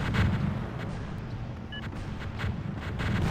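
A Singularity unit detonates in the real-time strategy game Zero-K, a dense rolling boom and rumble that swells, dips slightly and surges again over a few seconds.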